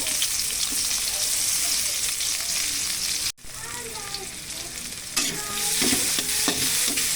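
Garlic and onion sautéing in a pan with leftover milkfish fat, a loud, continuous close sizzle with spatula scrapes, briefly cut off once, then crackling harder toward the end.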